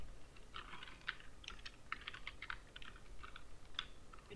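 Steady clicking of computer keyboard keys at close range, quick irregular bursts of typing with no voices.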